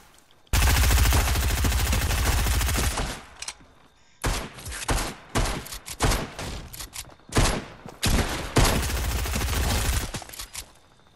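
Rapid automatic gunfire rattles in a mobile shooter video game, loud sustained bursts broken by short gaps, with no talking over the shots.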